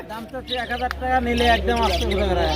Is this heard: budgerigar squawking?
yes